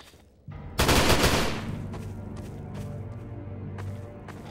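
Burst of gunfire in the Garry's Mod Zworld Afterlife survival game, a loud crack followed by a rapid volley that decays into lingering rumble and faint scattered clicks, with no talk.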